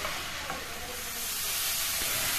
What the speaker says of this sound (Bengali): এবার ফ্লেমটা হাইতে করে মোটামুটি মিনিট খানেক এগুলো একটু ভাজা ভাজা করে দেবো ক্যাপসিকাম দিয়ে